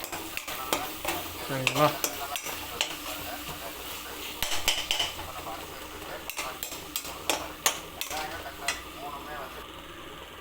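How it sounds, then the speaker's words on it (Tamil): Curry leaves and three green chillies sauté in a pan for a Dindigul chicken salna, with steady sizzling, frequent scraping and clinking of a spoon against the pan, and a brief spoken word partway through. "3 பச்சை மிளகாய் சேர்க்குறோம். நல்லா வதக்குறோம்."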